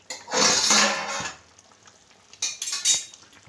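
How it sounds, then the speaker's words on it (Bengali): A lid comes off a steaming pot of hilsa fish. A loud hissing burst and a clank are heard close up, then quieter clinks and a short second hiss follow, with no talk. "এবার এই ঢাকনাটা সরিয়ে নেওয়া হচ্ছে"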